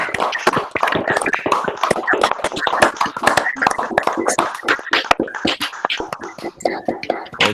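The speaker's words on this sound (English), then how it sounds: "I would like to ask everybody to turn on their microphones for a huge round of applause" Webinar attendees clap over their open microphones after a lecture on the lithium battery, a dense, continuous patter of many overlapping claps, compressed and slightly uneven, with a faint whisper-like murmur underneath.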